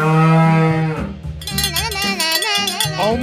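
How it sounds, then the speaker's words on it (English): A cow moos loudly and close by: one long, low, steady moo that flows into a wavering, drawn-out call, with nothing else heard over it. "Cow."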